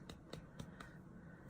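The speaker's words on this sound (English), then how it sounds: "This is the sound of fat slapping together" A few sharp, quick slaps of body fat against skin, irregularly spaced and fairly faint, over a low background hum.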